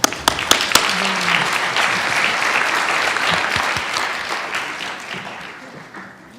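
An audience gives a conference panel a dense round of applause that starts with a few sharp claps, holds loud and steady, then slowly thins out toward the end.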